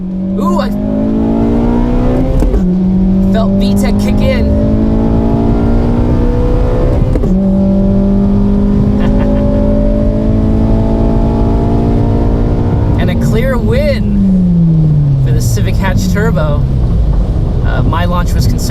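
A 2017 Honda Civic Si hatchback launches hard at a drag strip, its engine rising in pitch through several loud revving pulls with brief drops at each gear change, close and dominant throughout.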